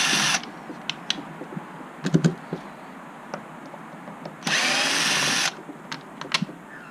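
A power screwdriver removing the center screws from a Zip USB charging port assembly, in two short buzzing bursts at the start and middle, with small clicks and handling taps between and after them.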